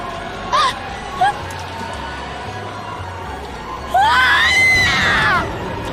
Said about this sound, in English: What a scream.